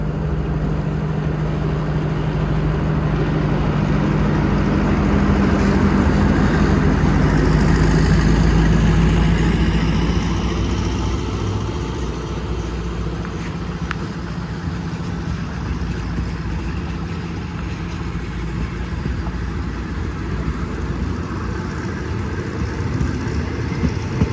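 Onboard Thai passenger train 211 passing through Rangsit station, a deep, continuous rumble of engine and rolling wheels fills the carriage, steady and close with faint rattles and no talking.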